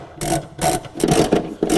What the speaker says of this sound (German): den schrauben wir jetzt fest